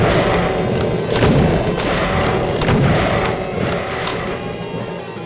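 Shotgun blasts in the classic shooter Doom during Sunlust map 13, Ruins of Skania, heard as dense, loud booming thuds that keep coming over a steady, busy backdrop of combat noise.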